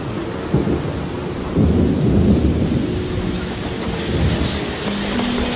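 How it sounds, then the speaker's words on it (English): A steady afternoon downpour hisses over a forest clearing where gorillas gather, while deep thunder rumbles in and builds into a long, loud roll; no one speaks. "An afternoon shower diffuses the tension."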